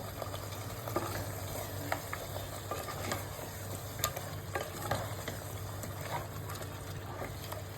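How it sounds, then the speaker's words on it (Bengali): Mutton biryani masala with cut potatoes being stirred and fried in a pot, a steady low sizzle with repeated scraping stirs of a spoon against the metal, close and moderately quiet. "এবার এটা খুব ভালোভাবে নাড়াচাড়া করে কষিয়ে নেব।"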